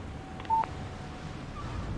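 A short electronic phone beep from a cellphone in the video game Alan Wake Remastered, a single brief tone that is fairly clear over a quiet, low background hum.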